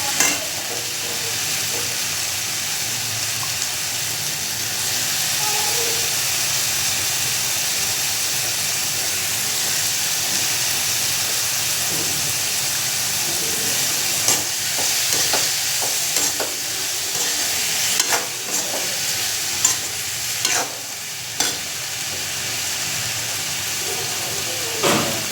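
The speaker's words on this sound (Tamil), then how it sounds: "காளானையும் போட்டு கொஞ்சம் நேரம் அப்படியே வதக்கி" Mushrooms sauté in a hot pan, giving a steady close sizzle and hiss with occasional sharp clicks of a utensil stirring them.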